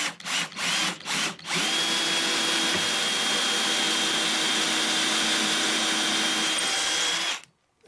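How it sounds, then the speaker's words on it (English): A power saw rips lengthwise through a 2x4 board, starting with a few short bursts of the motor, then running continuously with a loud, close whine and gritty cutting noise before winding down. "I'll have to rip a 2x4 to get the right thickness here"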